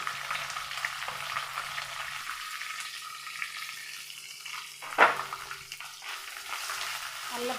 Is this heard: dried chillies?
yes